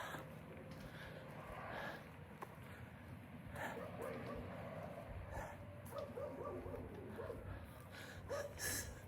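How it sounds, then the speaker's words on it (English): A dog in a window barks intermittently near a driveway, faint scattered barks and yips spread over several seconds against constant outdoor background noise. "Oh, I hear a dog."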